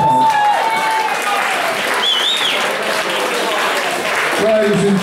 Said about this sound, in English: It's a big round of applause for Glenn.